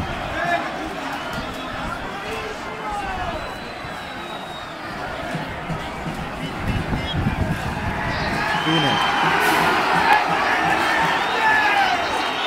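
Football stadium crowd at a Serie A match between Atalanta and Napoli, a dense roar of voices and applause building from a lower murmur to a louder swell, with nearby voices audible in the mix.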